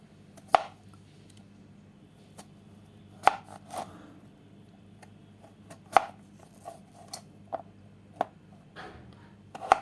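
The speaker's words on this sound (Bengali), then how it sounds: "এখন আলুটাকে আমি স্লাইস করে নেব সুন্দর করে" Peeled potatoes being sliced with a knife for French fries, with sharp separate knocks on a cutting board at an uneven, unhurried pace, heard close against a quiet background with no talking.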